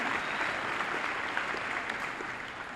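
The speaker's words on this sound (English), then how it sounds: "You can clap. I know all you football players want to clap." Sustained applause from a high school graduation audience, steady dense clapping at moderate distance with no talk over it.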